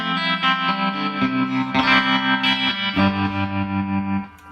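A Vintage Sound Amps Vintage 35sc guitar amp plays sustained guitar chords through its tube tremolo, a thick, distorted, pulsing tone with steady rhythmic throbbing.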